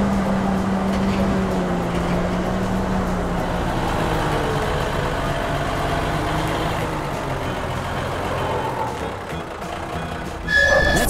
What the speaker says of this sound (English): Here we come in the big green haul truck.